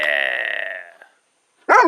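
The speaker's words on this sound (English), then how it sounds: "Bear Dog is a nuisance, barking-wise" A farm guard dog barks in a short burst of several rapid barks, fairly close and loud, then falls silent before a sharp vocal sound returns at the end.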